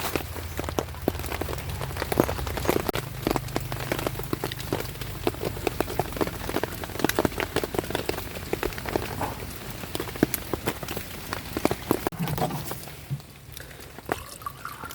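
Steady rain falls on the jungle at night, with dense, close patter and irregular sharper drops hitting leaves and surfaces, and a faint low hum beneath.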